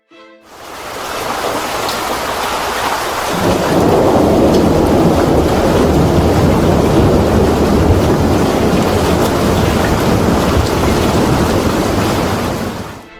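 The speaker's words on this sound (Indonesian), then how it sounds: "Hujan es di wilayah Gansu." Heavy, steady rush of a hailstorm in Gansu, China, that swells louder after a few seconds, pounding continuously with a low rumble underneath.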